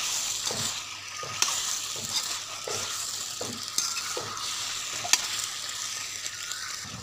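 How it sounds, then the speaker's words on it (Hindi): Chicken masala with finely chopped green chillies sizzles in a pan as a spoon stirs it, close scraping strokes repeating every half second or so over a steady frying hiss, with no talk. "मेरे प्यारे दोस्तों, अब हम इसको अच्छी तरह मिक्स कर लेंगे।"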